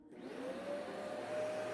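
A Hoover OnePower cordless vacuum cleaner runs steadily at close range, a constant motor whine holding an even pitch with a slight rise after starting.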